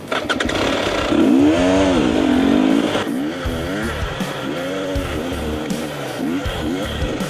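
A motorcycle engine revs hard near Pinatubo, its pitch sweeping up and down in repeated surges before settling into a rougher rumble; loud and close, without talking.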